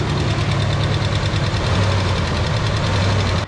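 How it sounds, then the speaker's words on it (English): A 1973 Chevrolet C10 engine, rusty inside, idles steadily up close with a persistent rhythmic ticking knock riding over a low rumbling drone, loud and unbroken with no talk. "The more she's ran, the more she's developed a tick."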